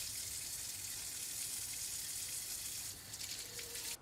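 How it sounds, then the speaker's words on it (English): Tap water runs in a steady, close gush over dried apricots being washed in a kitchen, then briefly changes and cuts off near the end. "wash them well under water and then dry the moisture well"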